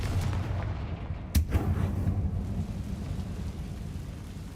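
A Confringo fire spell blasts in the Hogwarts Legacy video game, a single sharp booming impact that rumbles away over a steady low background roar.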